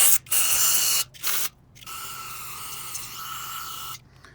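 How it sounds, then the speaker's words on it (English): Several sharp bursts of aerosol cleaner hiss in quick succession onto a 1978 Yamaha XS1100 front brake master cylinder, followed by a longer sustained spray, close to the microphone. "Start spraying down in here."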